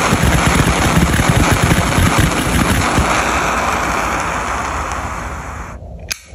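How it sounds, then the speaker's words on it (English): Jet lighter blasting a loud, roaring torch flame with a rough, windy hiss that slowly fades before a click shuts it off near the end. "Number three, jet lighter."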